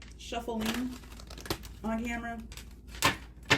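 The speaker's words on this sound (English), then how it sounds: "I will be shuffling on camera." Tarot cards being shuffled by hand: crisp papery riffles and snaps under a person talking nearby.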